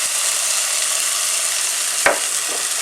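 Garlic hits a hot pan for a beetroot, orange and tarragon soup, producing a loud, continuous hiss of frying with a brief scrape or stir partway through.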